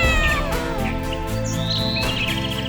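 Pet cat meowing over a bed of music, with a couple of chirpy bird-like calls mixed in; steady loud level, no talking.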